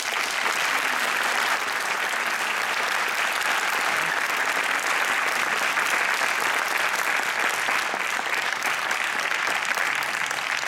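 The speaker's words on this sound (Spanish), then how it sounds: "me guste dedicarle un aplauso a todos los que estamos aquí" A large audience at a comic convention awards ceremony applauds steadily, a dense, continuous roar of clapping that holds at the same level throughout.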